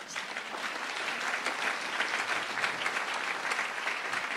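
A church congregation claps and acclaims the Lord in steady, full applause from many people, holding an even level from start to end.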